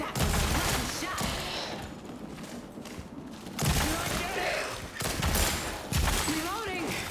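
Rapid bursts of gunfire from a free VR shooter game, loud and repeated across the clip in several volleys with short pauses, heavy low thumps under each round.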